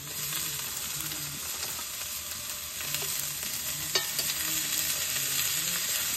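Cabbage cooking over a wood fire, with a steady sizzle and frying hiss running throughout, light stirring scrapes and an occasional sharp crackle, close and fairly even in level, with no talking.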